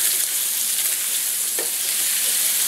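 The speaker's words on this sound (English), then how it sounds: "it's been about 5 minutes and it's browning up really nice here" Spicy sausage browns in a pan with a loud, steady, close sizzle that holds evenly from start to finish, alone with no voices.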